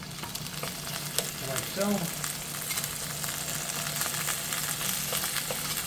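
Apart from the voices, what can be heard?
tomatoes cooking in a pan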